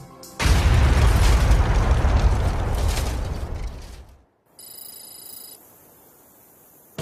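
A loud bomb blast set off inside an out-of-service 747 jet during a 1997 aircraft security test, a sudden booming roar that rumbles and slowly decays over several seconds, followed by quieter mechanical noise.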